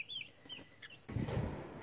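Hens clucking inside a makeshift chicken coop first built for turkeys: a few soft, close clucks and squawks, then a louder burst of muffled rustling and clucking near the end.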